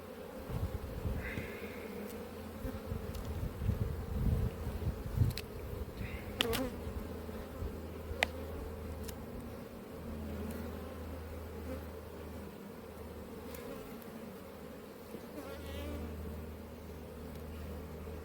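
Bees buzz continuously at an apiary, a dense drone with individual insects passing close now and then, along with a few clicks and knocks of hive handling and no voices.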